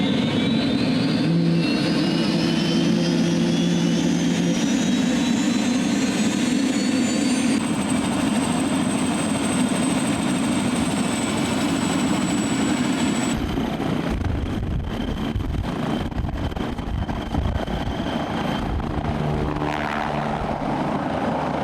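Aircraft engine starting and running, a loud steady roar with a rising whine that settles into a continuous drone and then shifts to a rougher, throbbing run, heard up close throughout.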